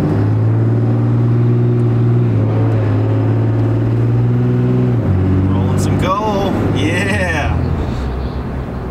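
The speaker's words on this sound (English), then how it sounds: "I do love the way this truck drives." A pickup truck engine droning steadily as it drives, the tone dropping at a gear change before climbing again as it accelerates, close and loud, with a brief voice toward the end.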